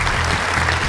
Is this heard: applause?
yes